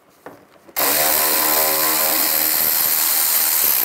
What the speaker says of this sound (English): And then take these screws out. Use a T20 socket.